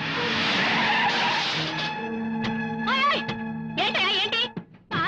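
A car driven at people in a Telugu film scene skids with loud, wavering tire squeals that rise and fall in several bursts before cutting off abruptly.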